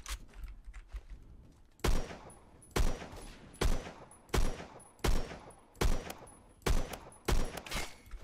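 Loud FAL rifle shots in the Roblox game Phantom Forces, fired in eight sharp, evenly spaced reports about a second apart, each booming and ringing out over a low background murmur.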